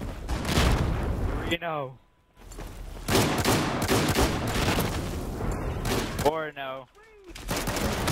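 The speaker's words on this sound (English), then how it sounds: "Another kill with a shotgun." Dense, loud shotgun fire rages almost continuously in Battlefield 4 gameplay, broken by two short pauses where someone speaks briefly.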